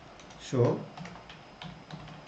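Brief burst of computer keyboard keystrokes as an SQL SHOW TABLES query is entered, a quick cluster of clicks followed by a few softer taps under a man's quiet Hindi speech.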